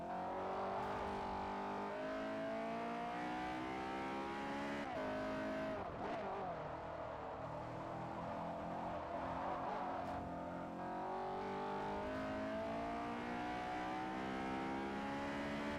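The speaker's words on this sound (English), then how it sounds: "Just love that noise when it hits the VTEC." A Honda engine in the Forza Motorsport 4 racing video game revs hard and climbs through VTEC, with rising engine pitch across repeated gear changes, steady and loud with no talking.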